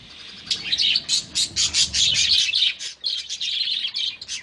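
Many pet budgerigars in an aviary flying cage chirp rapidly and continuously, bright high twittering overlapping in a busy chorus close by, as they fly from place to place.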